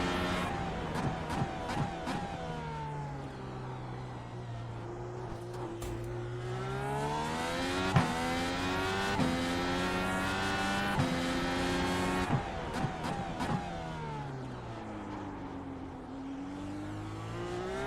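Race car in the iRacing sim slowing hard into the Sonoma hairpin, engine note falling and rising through continuous downshifts and acceleration, loud and steady with sharp gear-change blips throughout, no talk.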